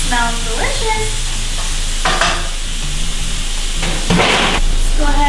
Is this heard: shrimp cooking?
yes